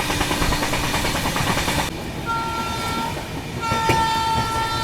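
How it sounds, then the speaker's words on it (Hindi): Mumbai Ahmedabad Shatabdi Express rushing past close alongside, a loud broadband roar of passing rail cars with steady rumble, then a sustained two-tone train horn sounding near the end. "बगल से क्रॉस होने वाली है। मुंबई अहमदाबाद शताब्दी एक्सप्रेस।"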